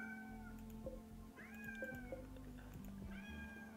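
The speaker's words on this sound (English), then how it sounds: "What's up, kitty?" A cat meows several times, with rising and falling cries spaced through the clip. The cries sit close and clear over a low background hum, and nobody talks.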